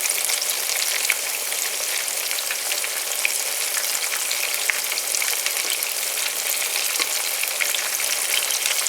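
Slices of eggplant fry in a pan with a steady, dense, close sizzle that holds evenly throughout, with no talking.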